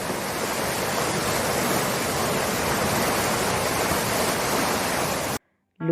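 Rushing river water floods through a town in an animated Hindi story, a dense, steady roar of flowing water that runs loud and unbroken before cutting off abruptly near the end.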